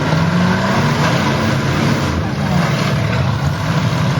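A demolition derby car at a county fair spinning its front-wheel drive tires, heard as a loud continuous engine roar with rising revs and tire noise over crowd din, constant and near throughout.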